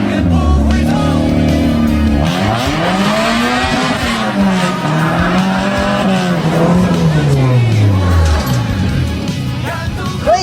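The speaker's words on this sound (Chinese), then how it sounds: "咱们上马力机拉拉马力" A 2.0-litre rally car weighing under a tonne, built from an old Shanghai car, revs hard with rising and falling engine sweeps, loud and continuous, with people talking over it.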